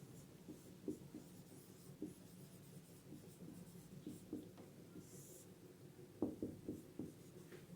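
A pen scratches out a statement during a Class 12 physics lesson on Ampère's circuital law: faint, close, scratchy strokes with short pauses between words.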